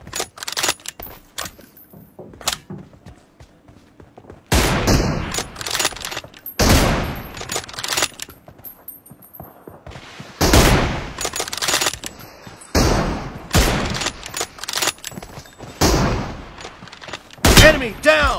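Gunfire in a shooter video game, including a slide shot: several loud bursts of rapid automatic fire and clattering impacts separated by quieter gaps, close and dominant, with a player talking over the action.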